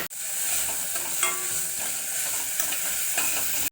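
Green chillies and ginger-garlic paste fry in a pan for goat liver curry, a constant close sizzle under repeated scraping strokes of a stirring spoon, with no talk.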